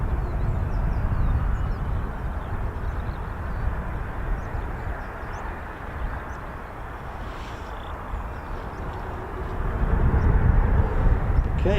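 Several Spanish Air Force EF-18 Hornet jets, a flight of four, taxiing at RAF Marham, giving a steady broad engine rumble and whine heard from a distance, swelling slightly louder near the end.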